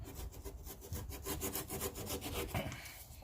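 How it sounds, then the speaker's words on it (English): A small hacksaw blade trims a steel rust repair panel on a Honda GSR Integra body, giving quick, even back-and-forth rasping strokes, close and fairly quiet, with no talking. "So we're gonna trim it off with this little hacksaw blade."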